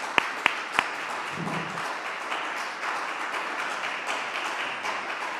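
Applause from an audience at a lecture on the political structure of the Mexican state, a steady, fairly faint patter of clapping lasting throughout, with a few sharper taps near the start.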